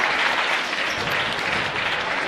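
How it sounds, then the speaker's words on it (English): A cheering section at a girls' high school basketball game applauds steadily, dense clapping filling the gym at a constant level with no pauses or distinct voices. "cheering section is happy about that"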